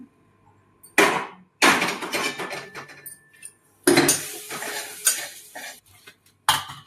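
Melted jaggery is worked into a dink laddu mixture in a pan: several separate bursts of close, loud spoon-scraping and clattering against the pan, broken by short silent gaps.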